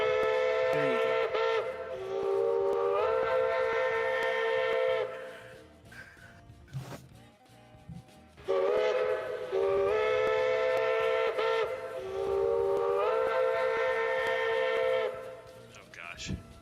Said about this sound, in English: now I've got a lot of whistling going on